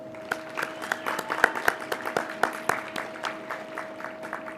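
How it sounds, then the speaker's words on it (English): Applause for guests at a 2021 early college graduation ceremony, a steady round of many hands clapping from a seated crowd, dense and moderately loud throughout with no talking. "Please join me one more time in welcoming our guests with a round of applause"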